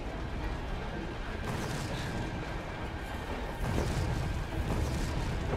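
An explosion in the video game Resident Evil 2, heard as a dense, loud, rumbling roar that swells toward the end, with no talking over it.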